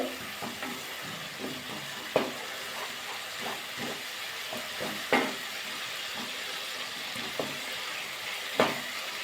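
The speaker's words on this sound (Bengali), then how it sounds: "ভালো করে নাড়াচাড়া করে মশলাটা কষিয়ে দিতে হবে অল্প অল্প জল দিয়ে মশলাটা কষিয়ে নেব" Masala for a kohlrabi and egg curry fries in a pan as a spatula stirs it. Quiet scraping strokes recur irregularly over a soft, steady sizzle, and no one talks.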